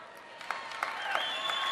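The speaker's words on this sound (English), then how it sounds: "Golf claps" Scattered, polite golf claps after a political speech, a thin patter of separate hand claps at a modest, distant level that keeps going steadily, with no voices over it.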